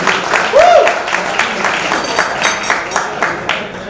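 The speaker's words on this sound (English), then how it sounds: "Give Louis a round of applause." An audience applauds at a New York community celebration banquet honoring a police commander, with steady clapping filling the room while a voice briefly rises over it.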